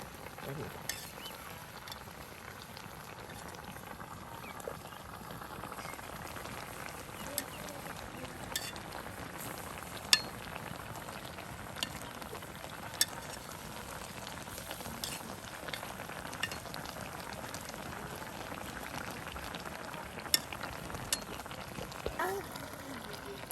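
Fish curry with elephant foot yam bubbling and sizzling in a pan, a steady broad frying hiss with occasional sharp pops and clicks, under faint talk.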